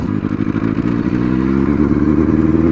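An old Benelli 600i superbike engine growls steadily up close, a deep continuous rumble with rhythmic firing pulses and a slight rise in pitch as it pulls through a gear, with no voices over it.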